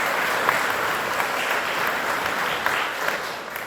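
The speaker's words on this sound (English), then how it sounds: "So let's give them a round of applause too." Audience giving a round of applause for instructors at a campus event, dense even clapping from a crowd throughout, fading slightly at the end.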